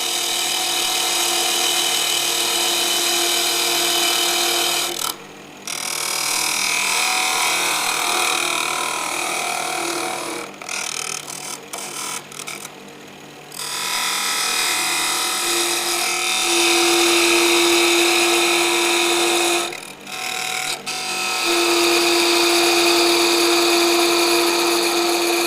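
A lathe takes a light cut on a glass whiskey tumbler. A steady high-pitched whine runs close and loud for long stretches, broken by several brief pauses and short bursts.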